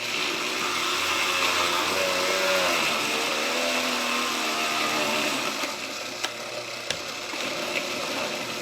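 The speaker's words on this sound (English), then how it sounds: "This is a Oster blender." An Oster blender motor whirs continuously, its pitch wavering and dipping slightly before a couple of sharp clicks near the end.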